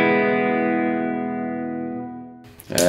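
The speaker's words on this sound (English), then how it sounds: "Can do a big reverb as well." A sustained electric guitar chord rings out and slowly decays in a long, spacious reverb tail, then a brief scrape of strings at the end.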